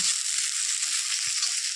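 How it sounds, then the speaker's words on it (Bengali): Gima greens frying lightly in a pan over a low gas flame, producing a continuous close crackling sizzle with a few soft stirring bumps underneath. "গ্যাসটা আমি লো ফ্লেমে দিয়ে গিমা শাকটাকে হালকা করে ভেজে দেব"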